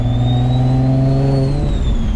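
Engine of a 700-horsepower turbocharged Infiniti G35 revving, a loud steady drone with a rising and falling whine across the harmonics, close and continuous with no talking.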